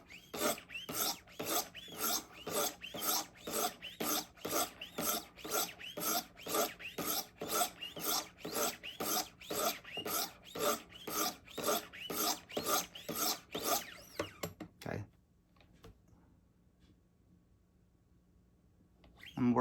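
A Benchmade knife is sharpened on a Wicked Edge system with a coarse 100 grit stone, making a fast, even run of rasping strokes up close for about fifteen seconds before it stops and goes quiet.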